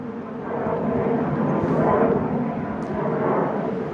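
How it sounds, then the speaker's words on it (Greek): Airplane passing over a garden in the Greek countryside, a broad distant roar that swells and slowly fades, continuous throughout. "Άντε να περάσει το αεροπλάνο επιτέλους."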